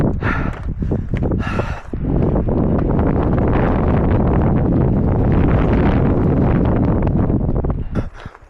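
Strong wind buffets the microphone while climbing a mountain, a loud continuous roar that swells after the first two seconds, with some brief rustling early on.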